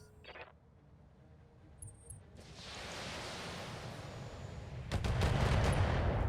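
A breaching shot in the Battletech mech game lands as a rising rumble that swells into a loud, sustained blast-and-debris roar, with sharper impacts at the peak and no talking.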